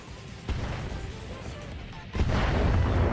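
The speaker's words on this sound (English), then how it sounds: "Just send the mortars." Mortars fire in the BattleTech video game: two heavy, booming launches, the second stronger, each followed by a sustained rumbling roar.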